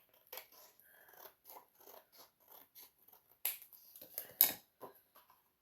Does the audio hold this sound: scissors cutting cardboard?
yes